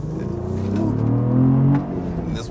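Cadillac CT4-V Blackwing engine revving up hard, rising in pitch to a loud peak and then easing off, close and steady with no talk.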